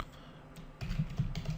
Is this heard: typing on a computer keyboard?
yes